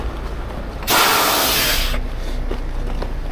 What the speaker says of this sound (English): now set your tractor brake too